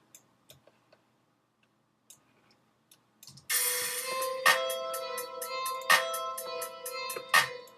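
Metronome click track in Logic Pro, sounding as a steady run of sharp ticks with brighter accented clicks every few beats over a sustained tonal layer, preceded by a few faint scattered clicks.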